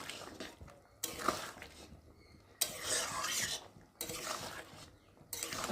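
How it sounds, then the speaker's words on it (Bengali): A spoon stirs egg curry in a pot, making four loud bursts of metallic scraping separated by short quiet pauses. "দিয়ে একটু ভালো করে নেড়ে চেড়ে নেব"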